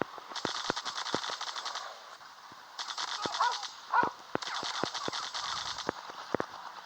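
Rapid bursts of gunfire crack out in a commando shooting video game, clustered volleys of sharp repeated shots separated by short pauses, fairly close and crisp.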